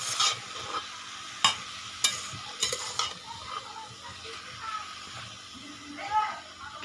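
Leafy greens and mixed vegetables frying in a pan, a soft steady sizzle under repeated scraping stirs of a utensil, with a few sharper clinks and faint talk nearby.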